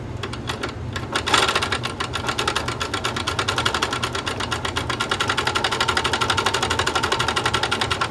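Sewing machine stitching appliqué on small fabric blocks with a short stitch length, a steady rapid mechanical chatter running continuously and close, with a brief pause and restart early on.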